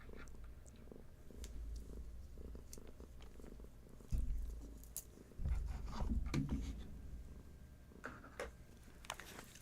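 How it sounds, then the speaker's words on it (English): Soft, low cat purring rumbles close by, with a few light taps and rustles over it. "Oh, and Hattie is purring."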